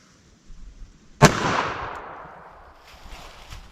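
A single sharp, loud gunshot from a .44 Special revolver firing a 255 grain Keith hard cast load into wood, with a long rolling outdoor echo after it.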